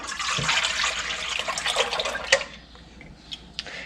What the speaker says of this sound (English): I pour the cream in the bowl